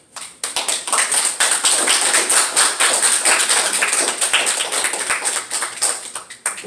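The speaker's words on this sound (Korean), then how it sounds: "큰 박수로 좀 맞아주시면 고맙겠습니다" A church congregation applauds warmly to welcome a newly ordained pastor to his first Sunday sermon, with dense, sustained clapping from many hands that stays close and steady, then thins toward the end.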